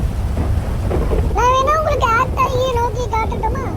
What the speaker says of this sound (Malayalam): അണ്ണാ മഴ അണ്ണാ